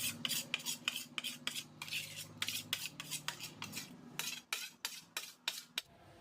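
A metal spoon scrapes and stirs homemade kajal soot in a small metal dish, giving quick irregular clinks and scratchy strokes, close and fairly quiet, with no talking.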